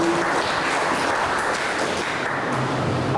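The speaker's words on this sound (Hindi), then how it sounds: "क्यों ना आप जोरदार परमेश्वर के लिए ताली बजाते इस समय।" A congregation claps at a Sunday evening service at a Hindi-speaking church in Vasai East. The applause is a continuous, even patter that stays steady for a few seconds.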